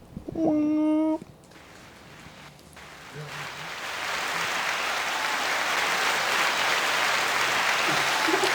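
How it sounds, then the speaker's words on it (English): Applause swells from a crowd during a casual podcast hangout, building from a faint patter into steady, broad clapping that sustains loudly after a short burst of voices at the start. "I'm gonna get applause for that."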